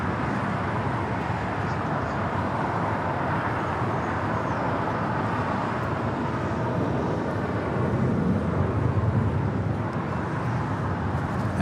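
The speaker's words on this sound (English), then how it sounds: "That was KLM Flight 602 heading back to Amsterdam" KLM Flight 602 departs LAX for Amsterdam, a continuous jet rumble at a distance that swells slightly near the end. No one speaks.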